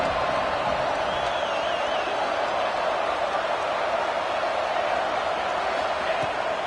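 Stadium crowd at an American football game roars steadily as the home fans rally the defense on third down, a dense, continuous wall of cheering with no breaks.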